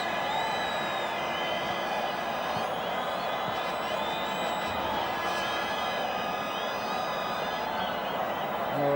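A football stadium crowd at a Mamelodi Sundowns versus Kaizer Chiefs match roars continuously, dense and loud, with horn-like drones and whistles threading through the sustained cheering.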